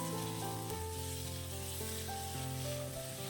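Sliced ripe tomatoes with salt fry in a pan for tomato chutney, giving a loud, dense, continuous sizzle close up with a steady background hum and no talking.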